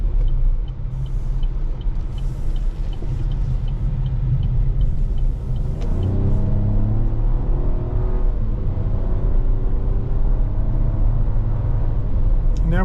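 A 2024 Chevrolet Trax 1LT with a six-speed automatic accelerates on the road, a steady in-cabin engine rumble and road noise that climbs in pitch through rising revs partway through, with no talking over it.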